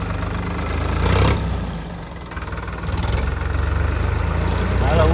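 New Sonalika tractor engine idling close by, a steady low rumble that runs continuously with slight swells in level, with no talk over it.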